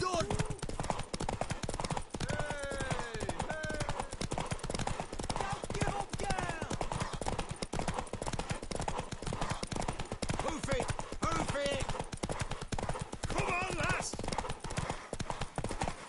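Horse hooves clip-clop in a steady trotting rhythm in The Witcher 3, continuous and fairly close, with voices talking over the hoofbeats.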